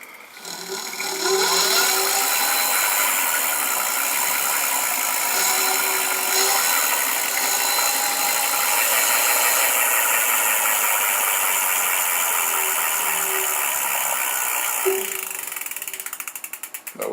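Electric motor of the Long Ranger electric vehicle set to 60% speed, heard as a steady high whine that rises in pitch while accelerating and holds loud for many seconds, then drops sharply as regenerative braking slows it, with no talking.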